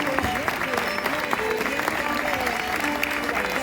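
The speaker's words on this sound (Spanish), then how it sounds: "Pues un aplauso para ella" Audience applauding steadily at a traditional costume fashion show in Grado, a dense wash of hand claps, close and loud, with crowd murmur and a presenter's voice faintly underneath.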